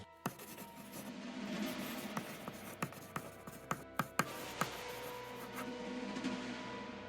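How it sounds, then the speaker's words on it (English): A pencil scribbles on a notepad at close range, quick scratchy strokes punctuated by sharp taps as the tip strikes the paper, faint and intimate against a quiet room. "He scribbled on the notepad"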